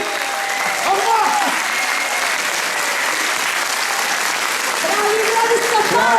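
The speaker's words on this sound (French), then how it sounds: "Un forte applauso, Giovanni!" Audience applause at an Italofolies 2015 festival performance, steady dense clapping throughout, with an announcer's voice calling over it and rising melodic cheers near the start and end.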